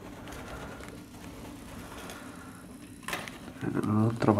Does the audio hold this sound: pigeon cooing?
yes